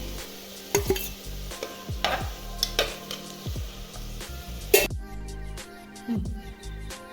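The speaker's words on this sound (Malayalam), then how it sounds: "ഉള്ളി വാടി വന്നിട്ടുണ്ട് ഇനിയിപ്പോൾ ഇതിലേക്ക് തക്കാളിയും പച്ചമുളകും ഇട്ട് കൊടുക്കുന്നുണ്ട്" Tomatoes and green chillies tossed into softened onions in a pan for a chicken curry, giving sizzling under scattered utensil clinks and scrapes, the frying dropping quieter toward the end.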